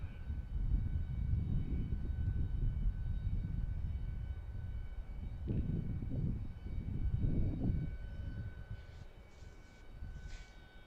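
A low airplane flies near an airport, a steady rumbling engine drone that swells and ebbs over several seconds, with faint high tones above it and a distant whine toward the end.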